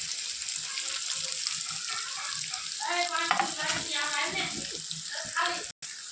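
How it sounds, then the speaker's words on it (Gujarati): Chopped cabbage and carrot go into a hot pan with softened onion, chilli and ginger for manchurian and sizzle with a broad hiss that swells midway, with a person talking faintly in the background. "હવે આપણે કોબી ગાજર એડ કરી દઈશું."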